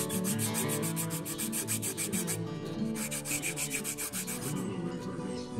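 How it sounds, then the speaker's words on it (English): A padded, medium-coarse fingernail file rubs over carved, wood-burned trout scales, making a steady run of quick, close scratchy strokes that carries on without a break. Music plays throughout underneath the rubbing. "kind of a medium coarse fingernail file that's padded, and it just knocks down the rough edges, the crisp edges of the scale"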